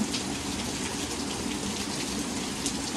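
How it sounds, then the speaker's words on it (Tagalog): Heavy rain pours steadily and densely, a constant loud hiss of drops drumming on surfaces with no letup. "Walang tigil talaga ang buhos ng ulan."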